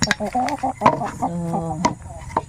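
Native chickens cluck repeatedly at close range, a run of short, uneven calls with a few sharper squawks, loud and clear with no talking.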